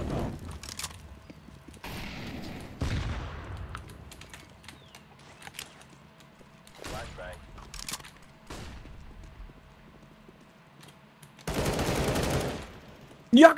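Bursts of Galil rifle fire in Counter-Strike: Global Offensive Wingman mode, several short volleys spread across the span and a dense loud burst near the end, with game sounds between them.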